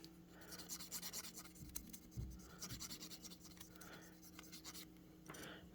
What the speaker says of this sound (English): Take the Q-tip. Get that crud and crust up off of it, like so.